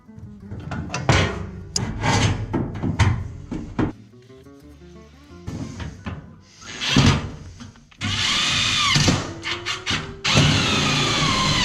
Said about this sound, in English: I had to re-drill those holes a little bigger for the electrical input